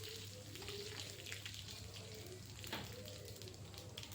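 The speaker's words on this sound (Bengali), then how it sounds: "আবার প্রয়োজন মতো তেল দিয়ে দিচ্ছি। ফোড়নে দিয়ে দিচ্ছি 1/2 টিস্পুন গোটা জিরে, শুকনো লঙ্কা ও তেজপাতা।" Whole cumin, dried chili and bay leaf sizzle in hot oil as the tempering for a rohu fish-head and eggplant curry. The frying is a faint, steady crackle with no speech over it.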